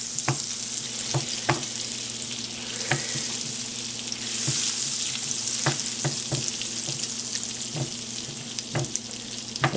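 Vegan butter melting and sizzling in a pan on the stove, a steady crackling fry near at hand, broken by regular sharp scraping taps of a utensil against the pan.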